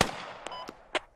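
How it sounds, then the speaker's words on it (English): A few sharp distant shots in the video game Squad, on the Kohat Toi River Valley map, pop out of quiet background noise: one near the start, then two more spaced apart, with a faint ringing tone between them. "I think I hear gunshots west"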